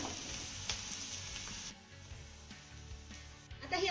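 Ginger garlic paste frying with onion in a pan, giving a steady, fairly quiet sizzle with occasional stirring scrapes and a brief louder burst of crackling at the end.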